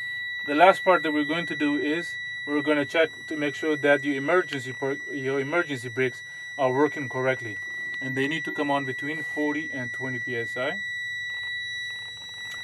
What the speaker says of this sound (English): you can hear the alarm right now